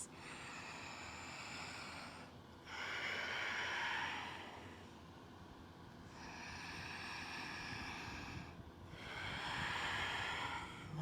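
Slow, deep yoga breaths during a vinyasa flow, three long breathy swells of air, each rising and fading, close and soft against a low steady hiss.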